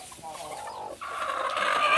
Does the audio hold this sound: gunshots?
no